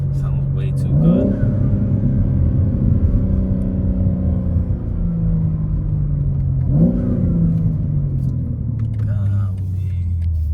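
A BMW G80 M3 fitted with an exhaust valve controller revs twice, each burst rising sharply then settling into a falling drone, close and fairly loud against wind noise.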